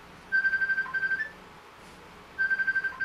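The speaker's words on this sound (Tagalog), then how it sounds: "sagutin mo muna yung cellphone." A cellphone ringing with a repeating electronic ringtone in two bursts separated by a pause, moderately loud over faint background murmur.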